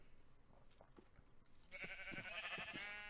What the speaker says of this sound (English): I'm gonna kill some sheep real quick